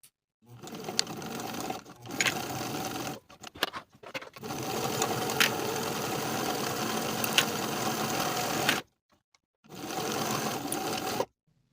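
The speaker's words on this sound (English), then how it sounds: "we're going to sew along that short edge, the top edge, and back down the opposite short edge with a 3/8 inch seam allowance." Sewing machine stitching a 3/8 inch seam along a jacket collar piece: steady close motor whir in several runs, pausing briefly between stretches of stitching.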